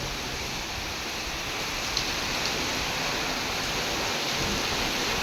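Heavy rain driven by strong wind in Bangalore, a dense steady hiss of downpour, fairly even and moderately loud, with no voices heard.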